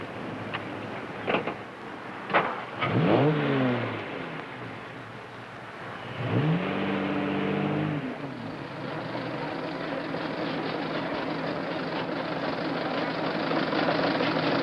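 Antique cars, a Stanley Steamer and a Model T, at the start of a race give a steady engine drone with rising and falling revs and a couple of sharp knocks early on, fairly close and continuous.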